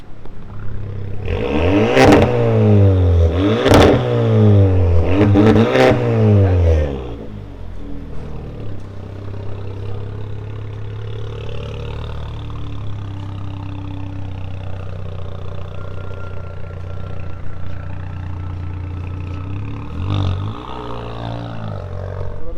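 An Audi A5 with a remote-controlled valve exhaust, bumpers cut on both sides, revs hard three times in loud mode, each blip a deep roaring surge. It then settles into a steady rumbling idle with one more short rev near the end.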